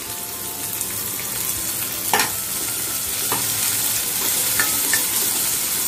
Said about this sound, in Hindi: अभी इसमें प्याज डाल रही हूँ।